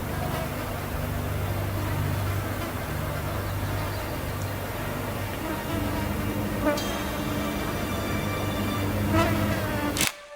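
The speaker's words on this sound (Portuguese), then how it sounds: "uma quantidade enorme de moscas infestava grande parte da sua" Flies infesting a house buzz in a dense, steady drone that fills the whole stretch, joined by a low hum and a few brief higher whines near the end, with no talk.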